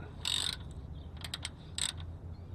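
Ratchet or tool clicking while loosening the oil filter cap on a 2015 Toyota 4Runner Trail Edition during an oil change, a few short bursts of close mechanical clicks with quiet gaps between.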